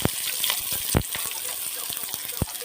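Chopped onion dropped into hot oil for a village-style mushroom vegetable dish, giving a steady sizzling hiss with scattered pops and crackles, fairly close, with some background noise.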